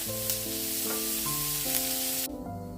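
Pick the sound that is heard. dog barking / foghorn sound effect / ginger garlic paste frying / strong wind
ginger garlic paste frying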